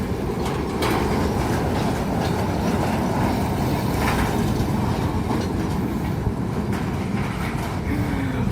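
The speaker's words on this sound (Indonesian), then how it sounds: "dengan lewatnya kereta tebu di perlintasan sebelum memasuki pabrik gula Semboro ini" A long sugarcane train of more than 30 loaded cars, hauled by locomotive number 10, rumbles steadily across a level crossing near the Semboro sugar mill, with rhythmic wheel clatter and a brief wheel squeal near the end.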